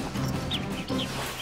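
Bird calls, clucking fowl such as chickens, sound in a few short chirps over steady background noise.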